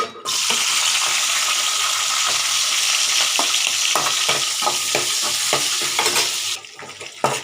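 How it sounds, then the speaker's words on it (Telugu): Onions and green chillies fry in hot leftover oil with a loud, continuous sizzle, while a utensil stirs and scrapes the pan in repeated knocks. It stays close and alone, with no talk. "ఆ మిగిలిన ఆయిల్లోనే మనం ఉల్లిపాయ, పచ్చిమిరపకాయలు వేసుకుందాం."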